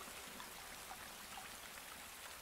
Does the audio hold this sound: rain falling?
yes